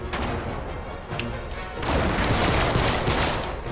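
Rapid bursts of gunfire in the video game Uncharted 3, loud and dense, swelling into a sustained barrage in the second half.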